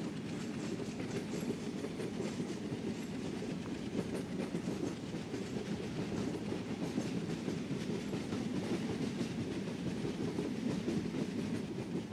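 A train in the Trainz Simulator game picks up speed on the Balurghat-Kolkata Tebhaga Express run, producing a steady rolling rumble with dense, rhythmic clickety-clack from the wheels that carries on evenly and alone for about twelve seconds.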